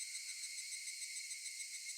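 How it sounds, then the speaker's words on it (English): Cicadas drone in a continuous, even, high-pitched shrill chorus in the Higurashi When They Cry visual novel video game, steady throughout and heard alone, ending with a faint low thump. "The cicadas being an indicator of the narrator's sanity is so good."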